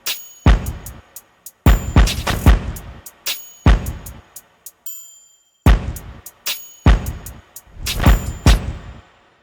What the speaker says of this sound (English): So I got this real heavy hitting kick from this R&B drum kit